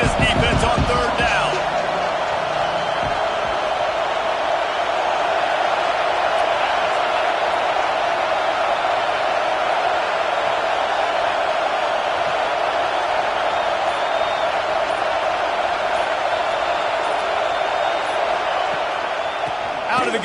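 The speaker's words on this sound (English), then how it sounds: "Decibels rising as the crowd gets behind this defense on third down." A college football stadium crowd roars steadily on third down, a dense sustained wall of noise from start to end, with a brief impact near the opening.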